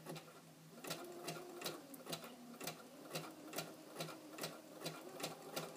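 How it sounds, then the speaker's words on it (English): A sewing machine stitches fabric nursing pads in a quiet, rapid, even rhythm of mechanical ticks, running steadily on its own up close. "I'm just going to keep on stitching away here."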